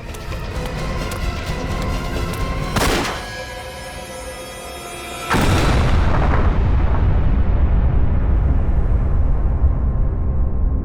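In a CID crime-drama scene, a large explosion sound effect bursts out over loud, tense background music. A sharp blast arrives, then a second, heavier roar that rumbles on and fades slowly.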